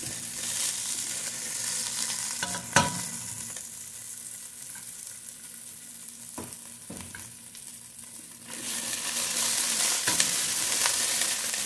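Garlic fries in a pan with chili, a steady soft sizzle broken by a few sharp clacks of a utensil as it is stirred, the frying growing louder near the end, with no voices.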